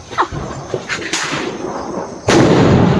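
A firecracker bomb bursts during a Diwali celebration: faint scattered pops lead up to one loud, sharp blast near the end that rings out and hangs in the air.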